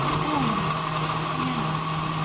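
A blender making lemon mint juice with water and sugar whirs steadily and loudly throughout, a constant motor hum with a high-pitched whine, close by.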